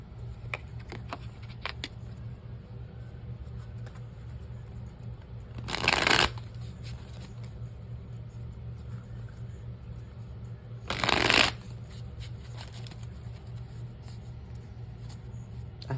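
Two brisk bursts of tarot cards being shuffled, each about half a second, close and crisp over a quiet room with a low steady hum and scattered small taps.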